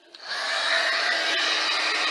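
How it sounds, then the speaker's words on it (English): A steady, close whooshing roar of a heat gun blowing hot air, starting abruptly and holding constant. "I'm going to heat it with my heat gun a little bit to dry it."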